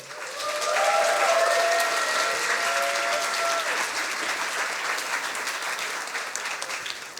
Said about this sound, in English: Big applause for Nils von Wardenburg.